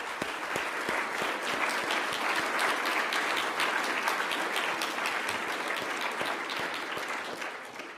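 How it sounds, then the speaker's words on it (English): A lecture audience gives the speaker a round of applause after his talk, steady, moderately distant clapping from a sizable crowd that holds for several seconds before beginning to taper off. "Let's all give him a round of applause"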